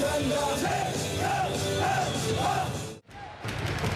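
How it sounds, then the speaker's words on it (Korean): Korean baseball fans shout and chant cheers at a KBO game, a dense, loud crowd roar with rhythmic swells that briefly drops out near the end before resuming. "경기 내내 힘껏 구호를 외치는 한국 야구 팬들"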